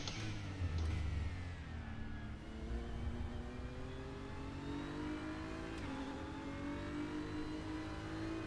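A GT3 race car engine at Daytona in a sim racing game revs and shifts, its pitch climbing then falling and climbing again as the car accelerates, loud and close, with no voices.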